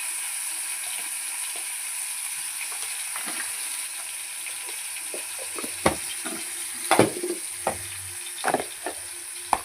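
Ginger garlic paste sizzles in tempering oil with turmeric, a faint steady hiss with a few sharp spatters and stirring knocks in the later seconds, close and unaccompanied by talk.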